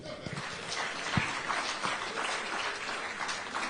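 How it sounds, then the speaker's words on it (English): A faint, scattered round of clapping from an audience at a democracy anniversary event in Abuja, distant and muffled under general room noise. "Clap for him."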